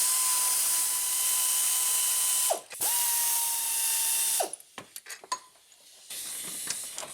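A ratchet wrench clicks rapidly and steadily while loosening the power steering pump bolts on a GMC/Chevy 1500, with brief pauses between runs and some metallic clanks near the end, close and clear.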